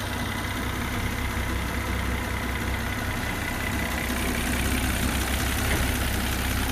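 A 2005 Volvo XC90 2.9-litre turbo engine idles steadily nearby after an engine flush and oil change, with a constant low rumble and a faint mechanical ticking, no voices.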